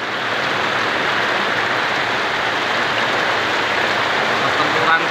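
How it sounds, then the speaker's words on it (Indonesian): Heavy rain pours at night, heard from a roadside hut, a loud, steady, dense hiss of water drumming continuously throughout with no speech. "Hujannya sangat lebat."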